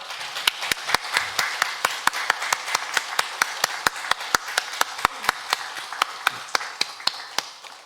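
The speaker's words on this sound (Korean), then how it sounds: "우리 힘찬 박수로 영광 돌립니다." Church congregation at a Sunday service clapping together in a steady, rhythmic beat, sharp regular claps about three per second, loud and sustained for the whole stretch.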